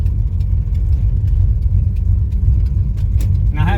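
Lincoln car with a faulty transmission running, giving a loud, steady low engine rumble and whir heard close up, with a brief higher whine near the end.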